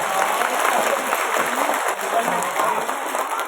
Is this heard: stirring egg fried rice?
no